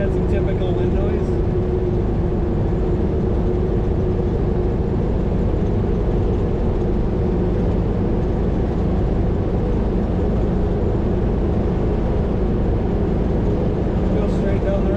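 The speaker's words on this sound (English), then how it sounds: "We had some typical wind noise." Steady, continuous wind and road roar fills the cabin of a 1966 Volkswagen Beetle driving at speed down a road, loud and unbroken throughout.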